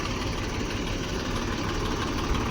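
A tractor hitched to a trolley idles at a clay mine pit, a steady, rumbling engine drone with an even tone throughout and no break.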